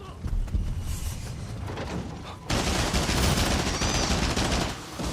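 Dense gunfire crackles in a video game, a steady rattle of shots that swells louder halfway through over busy battle noise.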